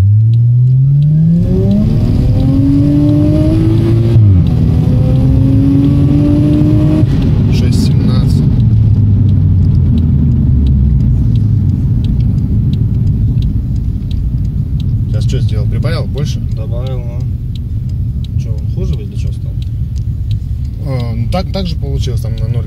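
A Toyota Chaser Tourer V running on LPG accelerates hard from a standstill, its engine revving loudly with rising pitch through several gear changes, then settling into a cruising rumble while people talk inside the car.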